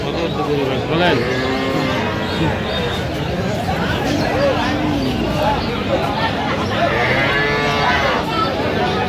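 Dairy cows and calves at a cattle market in Sylhet moo repeatedly, several low drawn-out calls near and farther off, over a constant crowd babble and talk.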